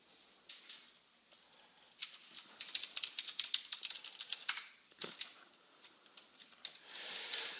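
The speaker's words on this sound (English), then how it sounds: "I thought you were typing." Rapid typing on a computer keyboard, light clicking keystrokes in uneven bursts with brief pauses, close and fairly quiet, no voices.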